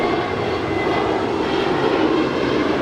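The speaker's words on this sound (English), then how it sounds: "That was Spirit 76 departing to Newark Liberty. It's a 2-year-old Airbus A320 Neo." A two-year-old Spirit Airlines Airbus A320neo jet departing Los Angeles International Airport, with a steady, loud engine roar that holds fairly even across the whole stretch and no voices.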